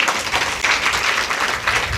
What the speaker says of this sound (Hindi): इसके लिए जोरदार तालियों से स्वागत करिए।